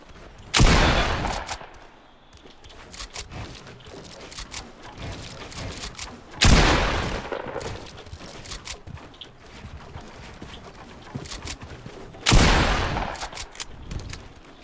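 Three loud, widely spaced bursts of gunfire in the video game Fortnite, each a sharp blast with a brief tail, separated by quieter in-game background noise.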